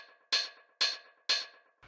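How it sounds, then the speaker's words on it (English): Three short, bright hi-hat hits from a pitched-up Roland 909 sample with shortened fades, evenly spaced about half a second apart, each with a crisp attack and quick decay, heard alone. "which is just like a 909 hi-hat that I pitched up and messed with the fades a little bit to make it shorter."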